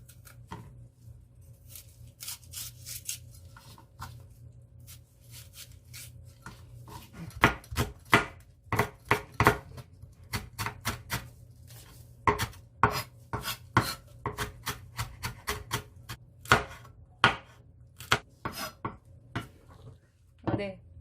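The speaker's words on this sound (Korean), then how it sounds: "청양고추도 어, 아주 잘게 썰어주겠습니다." A knife finely chops Cheongyang chili peppers on a cutting board in quick, irregular bursts of sharp taps, close and clear, starting after a quieter stretch with faint background hum.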